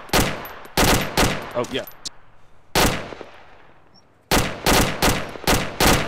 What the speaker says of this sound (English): every time I hear a gunshot now, even if it's yours, I just panic